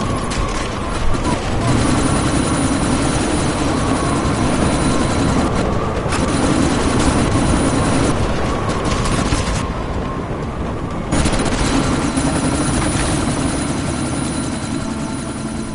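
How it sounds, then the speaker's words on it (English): Helicopter in Deus Ex: Mankind Divided during a sandstorm, giving a loud, steady rotor drone with a rumbling engine hum that runs nearly unbroken, briefly dipping around the middle before returning. "you need to disable that chopper"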